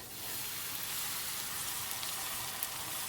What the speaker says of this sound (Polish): A więc wylewamy go teraz na patelnię.